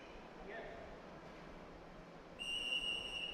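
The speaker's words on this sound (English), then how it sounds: "And we have the starting whistle." A referee's starting whistle sounds at the ABU Robocon robotics competition, a sharp sustained shrill tone cutting in over steady crowd and hall ambience.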